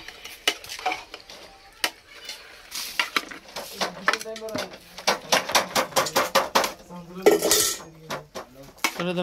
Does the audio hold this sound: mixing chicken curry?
yes